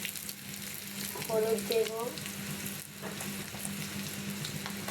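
Fish and onions frying in rice oil, a steady close sizzle with hiss running throughout, while a person speaks briefly over it.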